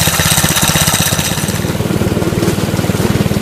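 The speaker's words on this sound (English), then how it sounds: "I mean it's idling much better" A small go-kart engine, just after a valve adjustment, idles loud and close with a fast, even putter and a steady pulsing rhythm throughout.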